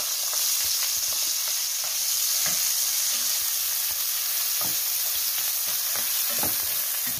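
Onion going into a pan of sausage browning to a golden colour, with a continuous close sizzle and a handful of light stirring scrapes spread throughout.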